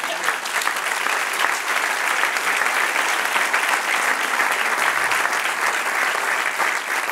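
A church congregation claps together during a sermon, a dense, even wash of applause that holds steady and fairly loud throughout.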